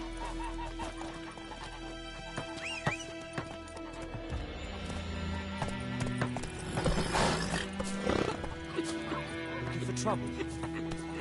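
Horse Roach in Witcher 3 galloping with rhythmic hoofbeats and a neigh, set against game music and ambient effects, while someone speaks briefly over it.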